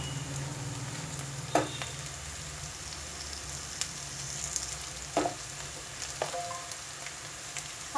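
Raw potatoes added to a pan of beans for a potato-beans dry curry fry with a soft, steady sizzle, broken by a few sharp clicks and stirring knocks.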